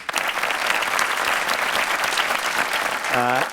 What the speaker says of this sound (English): That is a huge round of applause for that, Lucie.